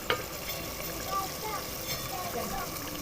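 Chickpeas and water are poured into a pot of browned chicken, a soft sizzle and watery stirring and sloshing under a voice, with a small clatter at the start.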